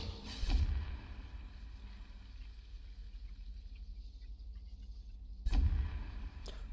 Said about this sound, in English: So you can see the explosions on multiple targets right there.